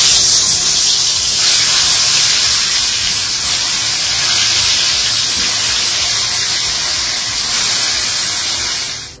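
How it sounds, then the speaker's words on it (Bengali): Luchi fry in hot oil with a loud, continuous, close-up hiss and bubbling sizzle that holds steady throughout and ends abruptly. "এখন তোমার লুচি ভেজে নিচ্ছি"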